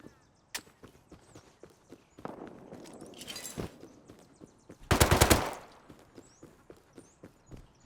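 In a Rust-style survival shooter, an AK rifle fires in bursts, including one dense rapid volley, over quick footstep-like clatter. The shots are sharp and close with nearby cracks, and there is no speech.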